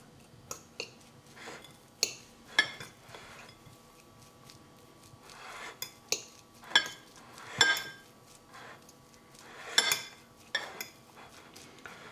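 Spoon clinking and scraping against a bowl while vegetarian burger ingredients are mixed, a series of sharp metallic knocks and chinks at uneven intervals with softer stirring scrapes between, close and clear.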